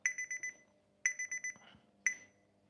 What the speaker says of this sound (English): I'm doing a 5 minutes timer